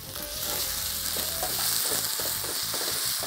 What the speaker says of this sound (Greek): αρχίζουμε να ανακατεύουμε και να καραμελώνουμε το κρεμμύδι μαζί με το σκόρδο